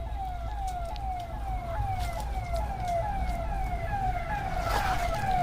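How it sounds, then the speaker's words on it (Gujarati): An ambulance siren wails in the distance on a rainy day at a plant nursery, its rising and falling tone repeating steadily over a constant low background rumble. "એમ્બ્યુલન્સનો અવાજ આટલા સુધી આવે છે ને કે 108 હતી"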